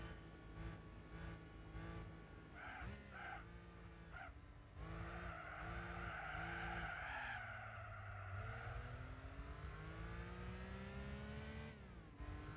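A car in the racing game Gran Turismo 4 brakes hard with a loud, sustained tire squeal that wavers and slides in pitch over the engine drone, continuing for several seconds with no talking.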